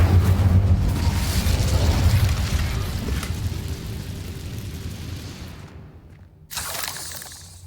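A fire spell is cast in the video game Hogwarts Legacy: a loud, roaring, booming burst that dies away over several seconds, cuts to silence for a moment, then flares up again.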